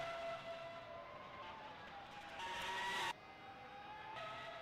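Ferrari Formula 1 cars at the San Marino Grand Prix in a 2003 racing video game, engines droning steadily at high pitch throughout with a brief surge and sharp drop, no voices.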